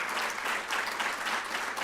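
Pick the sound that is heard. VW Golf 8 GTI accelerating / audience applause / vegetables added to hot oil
audience applause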